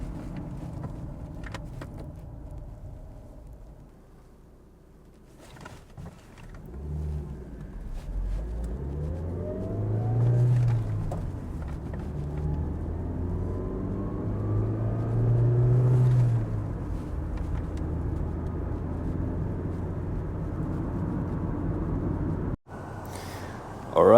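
A 1998 Toyota Corolla G-Touring 4WD wagon on a test drive, its engine rumbling steadily from inside the cabin and rising and falling through a couple of gear changes, with faint talk early on.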